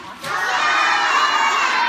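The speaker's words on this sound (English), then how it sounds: "let's hear a cheer for up." Schoolchildren at an Earth Day science demonstration cheer and shout together on cue. After a brief quieter start, the high, excited crowd yell swells quickly and holds loud for the remaining seconds.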